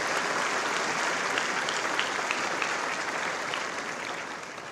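Applause from the audience at a New York State court officer graduation: dense, even clapping from a large crowd, heard at a moderate level and fading slightly toward the end.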